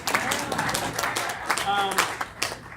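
An audience at a festival talk claps in a loose, uneven burst, individual claps audible over a murmur of voices, with a speaking voice briefly rising in the mix.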